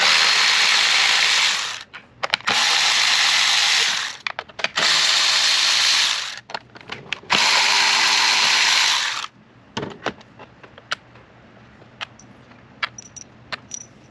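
A ratchet with a long 10mm socket backs out four bolts during a Camaro Corsa catch can install, making four rapid clicking bursts with short gaps between them, then a few scattered metallic clinks.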